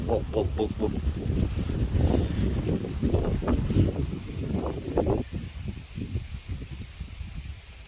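East monsoon wind gusting across an open field at harvest time in Nganjuk, rumbling steadily against the microphone for the whole stretch, loud and buffeting with uneven surges.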